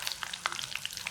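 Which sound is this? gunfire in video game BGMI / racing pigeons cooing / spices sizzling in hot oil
spices sizzling in hot oil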